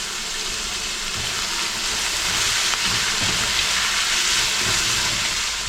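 Salted onions sauté in a pan for Kerala-style chicken varattiyathu, giving off a loud, continuous sizzling hiss with no voices.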